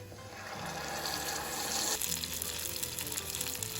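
Steady loud sizzling of green salsa frying with sautéed onions in hot oil, with a continuous crackle throughout.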